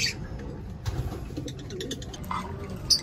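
Pet lovebirds give short cooing and chirping calls in a home aviary, a few scattered notes close by with a sharp high chirp near the end.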